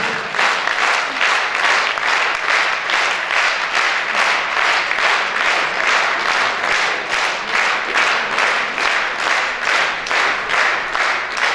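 A large audience claps loudly and steadily, the applause pulsing in an even rhythm for the whole stretch with no voices on top.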